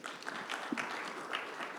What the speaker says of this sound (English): Can we have a great round of applause for all of them?